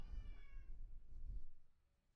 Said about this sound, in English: Whereas the cat's meowing, it's giving me the shits.